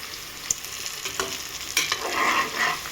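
Ghee rice masala sizzles steadily in a hot pan while a spoon scrapes and stirs it with occasional clicks. The frying is moderately loud and close, with no voices.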